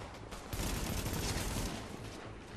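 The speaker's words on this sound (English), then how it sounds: "People shooting people in the streets?" Dense, continuous gunfire from the video game The Division, a sustained volley of overlapping shots on a New York street, steady and fairly loud throughout with no talk.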